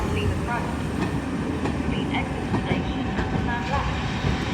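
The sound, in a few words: train passing York with West Coast Railways class 47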